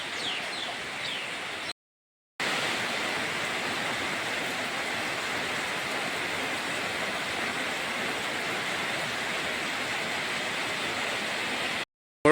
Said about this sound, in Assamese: এইয়া দেখিবলৈ পাইছে বৰষুণ দি আছে, পূৰা বৰষুণ দি আছে।